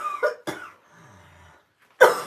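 A person with a sore throat coughs in close, harsh bursts: two quick coughs, a faint raspy breath, then another loud cough, with no speech.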